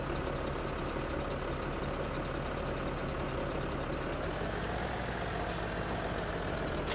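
A tractor engine in Farming Simulator 17 runs as a steady, even drone with a constant rumble for the whole stretch, and no one talks over it.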